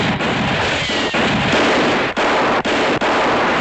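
Dense, loud, continuous gunfire in a western TV show, a saturated roar of overlapping shots with a few brief gaps toward the end.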